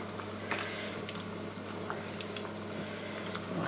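Chicken strips with masala spice being stirred in a pan make soft, irregular taps and wet squishing over a steady low hum, close and moderately loud.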